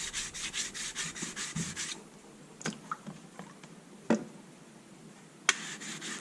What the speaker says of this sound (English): you pretty much just abrade off the top layer of that stone